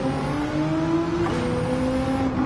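A Lancia Delta with a swapped engine revs steadily in Gran Turismo 7, a loud, sustained tonal engine note with a slight pitch shift midway, close and alone with no talk.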